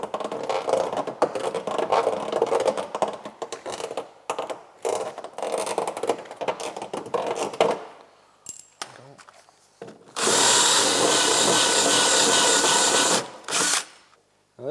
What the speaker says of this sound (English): Now this is a deburring tool. I use it on aluminum.